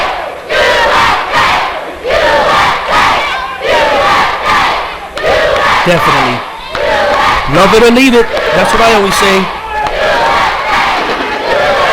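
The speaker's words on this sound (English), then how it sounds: "And there's the crowd. The USA chants I love to hear." Wrestling crowd in an arena chanting USA in loud rhythmic surges, rising and falling across the whole stretch, with someone talking over the roar.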